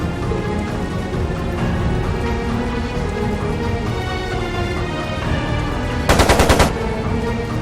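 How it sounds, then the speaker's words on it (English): Machine gun fire in Trails of Cold Steel II: one brief, loud, rapid burst of shots cuts in near the end over steady game music and ambience. "It sounded like a machine gun."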